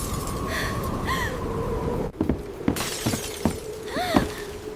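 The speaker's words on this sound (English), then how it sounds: "The window just cracked." Window glass cracks and shatters as a tornado hits a shed, a sharp break followed by several brittle clinks and pieces of glass falling, loud against steady roaring wind.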